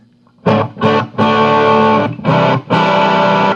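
An electric guitar played through a Vox VT40 Plus amp preset with reverb rings out in five loud distorted chords and bursts, separated by short gaps, alone without talk.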